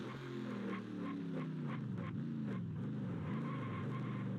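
Race car engines from NASCAR Racing 2003 on the Adelaide circuit drone loudly and continuously, pitch sweeping up and down through gear changes as cars run close together.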